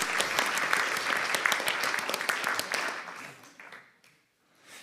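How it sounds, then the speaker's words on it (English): An audience at a forum session applauds with brisk, dense clapping that fades out over the last two seconds, leaving a brief near-silence before a little more noise. "Big applaud."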